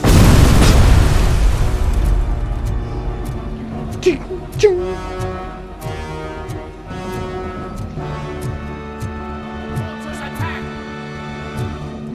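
Grenades go off in the first-person shooter RoboCop: Rogue City, opening with a loud, deep explosive boom that rumbles away, followed by smaller popping bursts under an ongoing game soundscape.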